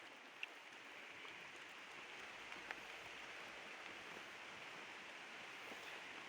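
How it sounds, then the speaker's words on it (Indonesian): Steady rain falls outdoors at the Linggayoni site in Sukamaju Kidul, Tasikmalaya, a continuous even hiss of drops with no breaks and no voices. "Kaleresan ayeuna nuju hujan."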